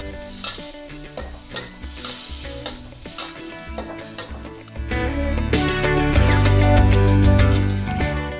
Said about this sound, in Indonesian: Baik, ditumis campur adukkan dengan bahan-bahan sebelumnya.